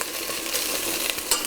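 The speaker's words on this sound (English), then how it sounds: "So we're just going to get this in on the heat and just get that sizzling away." Chicken bones and skin frying in a hot pan for stock, a steady close broadband sizzle with faint crackles and a brief louder pop near the end, no voices.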